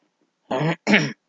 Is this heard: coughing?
yes